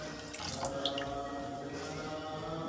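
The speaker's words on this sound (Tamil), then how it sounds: "இப்போ தேங்காய் பாலை ஊற்றிக்கிடுவோம்." Thick coconut milk poured into sago payasam, a steady liquid trickle and splash running continuously at moderate level, with faint kitchen clinks on top.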